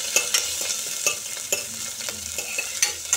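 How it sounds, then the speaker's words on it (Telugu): Cumin seeds, onion pieces and green chillies fry in ghee with a bright continuous sizzle, punctuated by regular sharp spatula taps and stirring scrapes close by, no talking. "చక్కగా మనకి నేతిగా జీలకర్ర అయితే వేగుతుంది"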